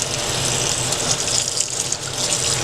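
Tap water runs continuously into a sink while canned hominy is rinsed under it, a loud, close, steady splashing rush with no talk.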